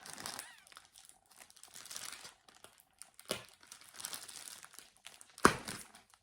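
Close, quiet crinkling of plastic packaging and peeling heavy tape comes in intermittent bursts, ending with a sharp rip.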